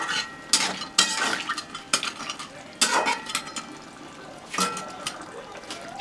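Water is poured into crab curry, followed by the spoon stirring it through. A ladle clanks and scrapes against the pot in several distinct bursts amid a watery slosh and bubbling.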